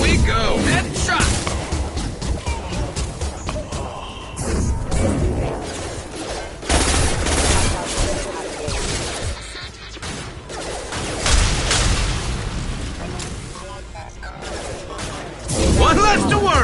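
Video game gunfire, heavy high-impact shots with bursts and clatter, ringing loud and dense throughout under game effects and a voice speaking over much of it.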